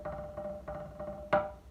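A snare drum buzz roll practiced slowly under tempo, with soft, evenly spaced buzzed strokes repeating about three times per second and then a single louder, sharper hit near the end.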